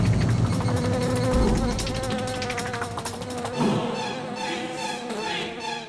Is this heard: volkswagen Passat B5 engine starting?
no